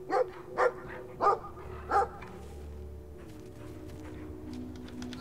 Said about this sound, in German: Und hier kommt ein dicker Hund gerannt.